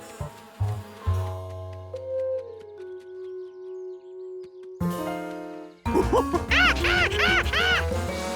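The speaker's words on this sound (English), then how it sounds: "George knew Bill's plan was going to make the bees mad" Angry cartoon bees buzz from a disturbed hive in a sustained, tonal drone. The pitch slides downward and holds, then a louder, more chaotic swarm of warbling buzzes breaks out near the end.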